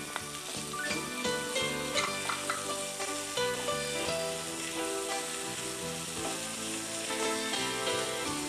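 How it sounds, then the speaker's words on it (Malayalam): Chopped capsicum sautéing in a pan, sizzling steadily and close throughout, with occasional stirring, under continuous background music. "ഒന്ന് സോട്ടേ ചെയ്തതിന് ശേഷം ഗ്രേറ്റഡ് പനീർ ഇട്ട് കൊടുക്കുക."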